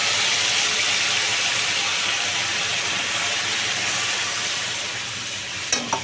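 A paste of green chili, dried chili, cumin, coriander and tomato hits a hot pan and sizzles loudly and continuously, the hiss easing slightly toward the end before a couple of sharp clicks.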